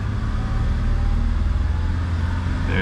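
A car engine, freshly repaired with replaced spun bearings, idles and runs steadily at close range, a loud continuous low rumble with no knocking evident.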